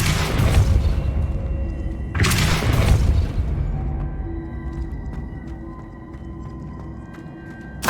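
Two heavy booming force blasts from a Depulso spell in Hogwarts Legacy hit about two seconds apart, each a loud thumping burst with a shattering crash, then fade into a low lingering rumble.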